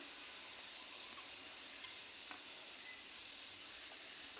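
Cumin, fennel seeds and cinnamon pieces sizzle in hot oil with a steady, close, bright hiss and a few faint crackles, with no voices.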